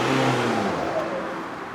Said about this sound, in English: they'll rev their engine, trying to be clever